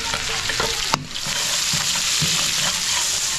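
Garlic and onion sauté for pancit in hot oil, a steady loud sizzle with occasional spatula scrapes and stirring clicks throughout, no voices.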